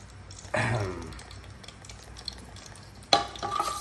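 Spice paste for fish curry sizzling in a pan as it is sautéed, with two sharp bursts of frying and stirring, one near the start and one near the end, over a low kitchen background.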